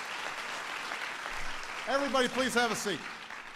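An audience applauds steadily at a National Medal ceremony honoring George Lucas, the clapping staying fairly even while someone speaks over it.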